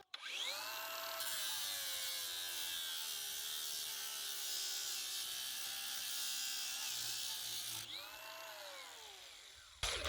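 A cordless 18V Narex CBU 125 angle grinder on a 4Ah battery, fitted with a 3M Cubitron II abrasive disc, spins up, then grinds loudly and steadily with a harsh high-pitched whine for several seconds before winding down near the end.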